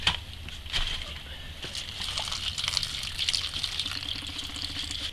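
Water gushing and splashing from an RV water pump during priming, a steady sloshing pour with a few sharper splashes throughout, close and fairly loud.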